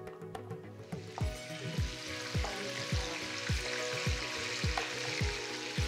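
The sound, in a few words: fish pieces frying in oil in a frying pan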